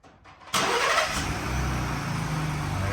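A Ford Bronco truck's engine cranks and catches about half a second in, then settles into a loud, steady idle rumble that runs to the end.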